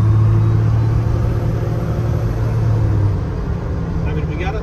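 A first-generation 12V Cummins diesel pickup cruising at highway speed, about 70 mph, gives a loud, steady engine drone and road rumble heard from inside the cab, with a voice talking over it.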